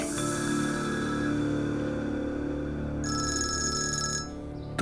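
A telephone rings over a steady background hum, its bright electronic tone sustained for a couple of seconds before cutting off.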